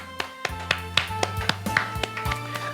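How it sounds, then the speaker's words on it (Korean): A church congregation claps in thanks in a steady rhythmic beat at a worship service, with sustained keyboard-like tones playing underneath. "우리 하나님께 감사의 박수 올리겠습니다"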